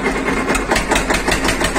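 An Eicher tractor's diesel engine runs close and loud in a short continuous stretch, a steady throbbing idle with a rough mechanical rattle and no voices over it.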